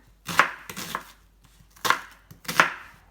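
A knife chops onions repeatedly on a cutting board, a handful of sharp, uneven strikes close by with brief pauses between them.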